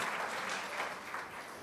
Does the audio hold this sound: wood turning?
no